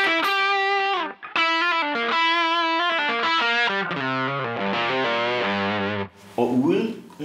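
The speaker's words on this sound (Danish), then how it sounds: "Og så sætter jeg kompressoren på, men efter overdrive stedet." An electric guitar played through an overdrive pedal followed by a compressor gives loud, distorted, sustained notes in a melodic run of held and shifting pitches, evenly leveled throughout.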